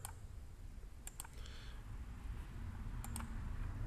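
A few crisp computer mouse clicks while working in CAM2 measurement software, sharp isolated ticks in small pairs spread over a faint room hum, near and quiet, with no speech.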